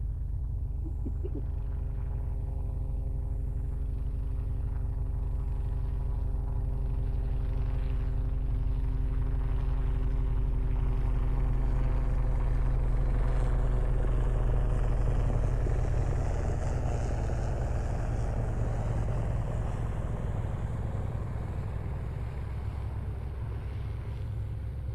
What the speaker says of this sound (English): we will listen to a decelerating helicopter that is transiting through and past the BVI region